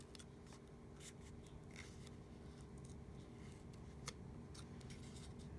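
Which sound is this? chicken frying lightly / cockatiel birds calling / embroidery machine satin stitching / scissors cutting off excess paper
scissors cutting off excess paper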